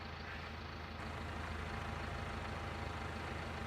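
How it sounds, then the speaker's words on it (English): A big dual-wheeled tractor engine in Farming Simulator 19, a loud, even, continuous drone with a low rumble and no speech. "Let's get our big dual-wheeled tractor here, though, back to the farm."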